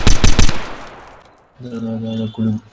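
Video game gunfire in a Bangladeshi Zero Hour tactical shooter match: a loud burst of rapid shots at the start, fading into a decaying tail, then game tones and voice-like sounds.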